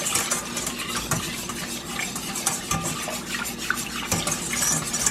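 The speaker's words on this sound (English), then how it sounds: "You want to continue to whisk this." A whisk stirs cheese sauce in a pot, giving steady scraping and sloshing sounds with occasional metallic clinks against the pot, close and alone.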